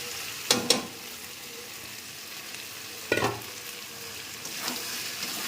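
Fried young jackfruit and potato pieces drop into a pan of frying spice paste in oil, giving a steady low sizzle broken by a few sharp clattering stirs, with no voices.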